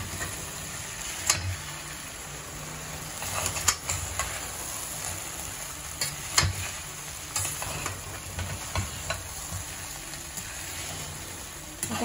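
Okra kurkure shallow-frying in oil crackles and sizzles steadily while a spatula stirs and scrapes the pan, with sharp irregular clicks and knocks standing out close by.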